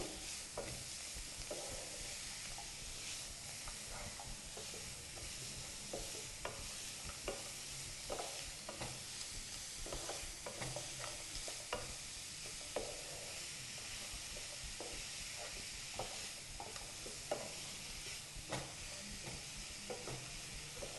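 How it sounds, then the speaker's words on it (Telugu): Cluster beans fry in oil in a pan with a soft, continuous sizzle, broken by frequent light clinks and scrapes from stirring. The sound stays faint and even throughout, with no talking. "గోరు చిక్కులని ఆయిల్లో ఒక రెండు నిమిషాలు ఇలా వేయించుకున్న తర్వాత"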